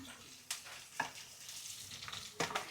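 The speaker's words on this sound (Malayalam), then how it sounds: "ഇനി നമുക്കിതിനകത്ത് കറിവേപ്പില ഇട്ട് കൊടുക്കാം." Curry leaves hit hot oil in a pan with sautéed garlic and onion for a Kerala tomato rasam, giving a steady sizzle with sharp crackling bursts at a few moments, close and fairly loud, with no talking.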